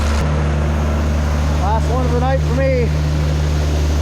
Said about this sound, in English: Sorry for the noise of the tractor